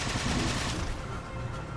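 Plasma cannon firing in Halo 4 on the third level, Legendary difficulty, against a shielded jackal, grunts and elites; a dense, sustained rapid burst of loud fire runs steadily throughout with no pauses, with no talk over it.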